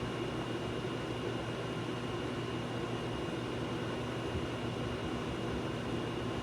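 A 1950s Vernco K-3 box fan runs on low, making a steady, broad whooshing hum with a faint tonal drone, continuous and close. An air conditioner also runs in the room.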